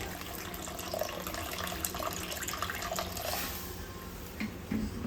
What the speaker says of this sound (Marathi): तर मी अजून थोडंसं पाणी घालणार आहे.